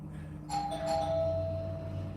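A two-tone doorbell chimes once over a steady low background hum, clear and moderately loud, with its ringing tone fading out slowly.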